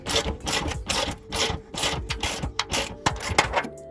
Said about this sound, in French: on prend une clé à cliquer, douille de 17 et c'est parti